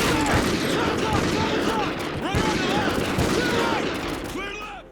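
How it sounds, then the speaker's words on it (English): Heavy 50 caliber weapon firing in a video game, a loud rapid burst of booming shots with mechanical clatter that runs nearly unbroken and fades slightly at the end. "here's what that 50 caliber weapon sounds like"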